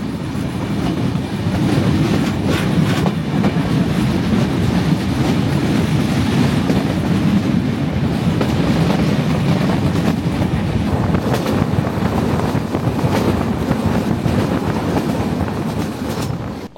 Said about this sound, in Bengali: চলতে শুরু করলো আমাদের ট্রেন।